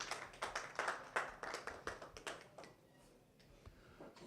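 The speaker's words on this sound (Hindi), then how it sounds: "भरपूर तालियां जी उनके लिए।" Scattered hand claps from a small studio audience at a Manchester TV studio's tenth-anniversary religious celebration, lively for the first few seconds before thinning out to a few isolated claps in a quiet room.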